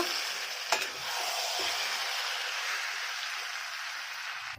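Mutton sizzles steadily in hot spiced oil, a loud continuous frying hiss with a couple of sharp clinks from stirring.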